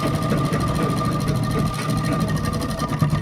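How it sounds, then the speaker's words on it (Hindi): A sewing machine stitches a kurti neckline along a marked line, including a back-stitch, with a close, rapid, evenly pulsing needle rhythm throughout and no speech. "तो मैं यहीं पर निशान के ऊपर अपनी सिलाई लगा लूँगी, पक्का करूँगी, एक रिटर्न सिलाई और लगाऊंगी"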